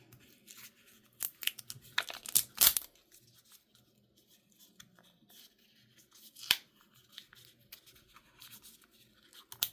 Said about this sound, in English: Let me open them up, then you can see what they look like without the plastic.